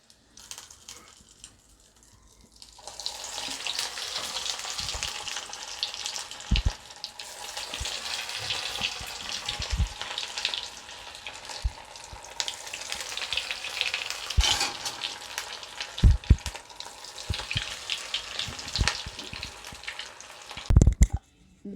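Tamil Nadu style mutton kheema vadai deep-fry in plenty of oil, giving a dense, continuous bubbling sizzle that rises after a quiet start and carries scattered sharp pops and clinks for about twenty seconds, with no voices.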